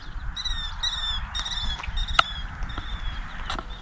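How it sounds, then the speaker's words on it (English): A killdeer calls in the wetlands of Pleasant Valley Preserve in Marcellus, New York, giving a string of thin, repeated high notes at a moderate distance, with a sharp click partway through and a low background rumble. "Got a killdeer coming in."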